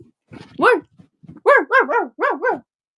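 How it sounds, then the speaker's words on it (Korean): A dog barking on command during a live stream: a close, loud series of about six rising-and-falling barks, a single one first and then a quick run of several, with softer sounds before them. "더 크게 짖어"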